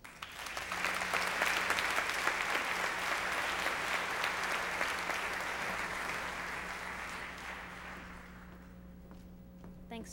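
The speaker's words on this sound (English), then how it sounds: "Would you please give her a warm round of applause?" Applause from an awards ceremony audience welcoming Marina Giordano, a broad sustained wash of clapping that swells early, holds steady, then thins and fades toward the end, with a low steady hum underneath.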